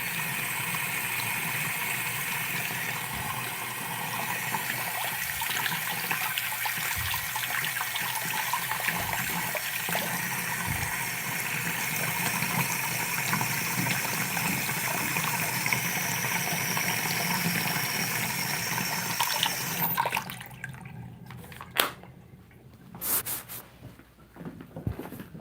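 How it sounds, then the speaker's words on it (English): Water pours steadily from a tap while costume teeth are rinsed under it, a continuous rushing splash for most of the stretch, then cutting off into scattered clicks and drips near the end. "let me just run these underwater. Pardon any water noises."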